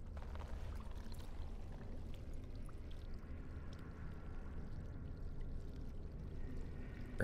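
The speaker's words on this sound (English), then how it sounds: "Put the earthen jug into the pool." Earthen jug being filled with water in a pool in Dragon Age: Origins, a steady gurgling pour and low watery rush running continuously at moderate level with no talk.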